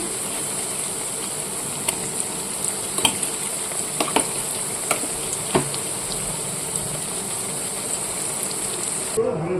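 Ginger-garlic paste frying with fried onions in a pan, a steady loud sizzle with scattered sharp crackles and stirring clicks, no talking.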